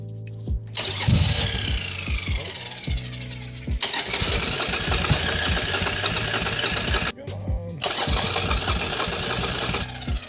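A motorcycle engine cranks and tries to start after its spark plug was cleaned, with repeated loud sputtering bursts of cranking separated by brief pauses.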